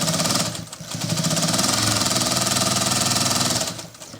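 A sewing machine stitches a strip of patchwork fabric with a loud, close, continuous rapid mechanical whir that eases briefly near the start and tails off at the end.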